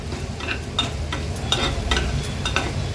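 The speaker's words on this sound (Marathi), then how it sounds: "हळद ॲड करतोय, हळद देखील परतून घेऊया" Turmeric being sautéed with crushed ginger-garlic and green chilies for chicken vada filling makes a soft, steady sizzle, with repeated light stirring scrapes throughout and no voices.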